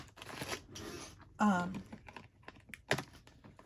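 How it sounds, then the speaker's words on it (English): Keys of a typewriter clack in short, uneven bursts at close range, mixed with faint rustling and a few louder knocks. "Which is why I'm using the typewriter here."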